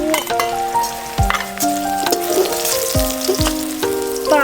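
Mushrooms hit a hot wok after rock sugar is stir-fried, giving a loud steady sizzle and frying hiss throughout, with a few utensil clinks and scrapes against the pan.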